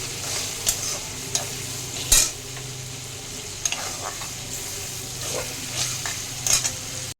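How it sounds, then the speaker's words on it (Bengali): Onions frying in a pan for a potol, shrimp and potato curry, with a steady soft sizzle broken by a few sharp stirring scrapes and clinks near the microphone, no voices. "একটু পেঁয়াজটা ভাজা হোক"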